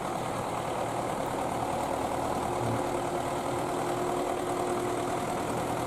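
A tractor fitted with a snow bucket idling nearby, a steady low rumbling engine drone that holds even throughout with no speech.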